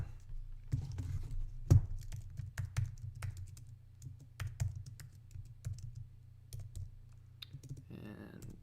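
Rapid, irregular clicks of typing on a computer keyboard, close and fairly crisp, over a steady low hum from a guitar pedal setup, with a brief burst of louder keystrokes near the end.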